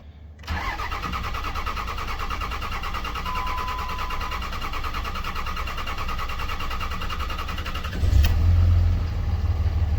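A 2003-2007 Dodge Ram with a Cummins diesel at about 163,000 miles on a 65-degree day, cranking at length with a steady whirring starter before the engine catches and settles into a low, rumbling idle.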